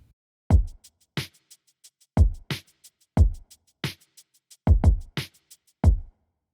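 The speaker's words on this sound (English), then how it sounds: "I love the drum pattern editor in Studio One." Programmed drum pattern from the Studio One Impact drum instrument: punchy kicks, snappy snares and short hi-hat ticks in a steady looping beat, dry and alone.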